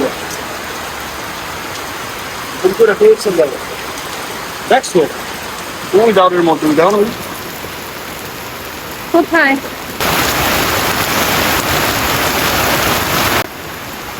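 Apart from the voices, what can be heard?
heavy rain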